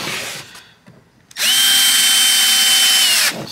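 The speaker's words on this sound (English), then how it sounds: "what I'm actually doing right now is I am actually gonna countersink it" A power drill countersinks a screw hole in wood for a subwoofer bandpass box, whirring loud and steady for about two seconds after a brief quiet start, then stopping abruptly.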